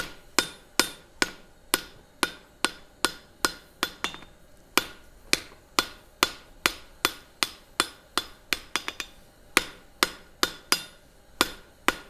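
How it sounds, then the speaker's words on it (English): A hammer peens the surfaces of a hot wrought iron billet during forge welding, sharp metallic blows landing in a fast, steady rhythm with short pauses, close and clear, with no voices. "I'm actually peening the surfaces together a little bit to close up"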